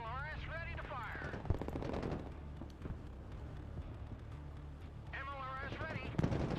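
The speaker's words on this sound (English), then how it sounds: "MLRS ready to fire." MLRS rocket artillery firing in the Broken Arrow real-time strategy wargame: a burst of sharp launch blasts and booms over a steady low rumble, with someone talking over the action throughout.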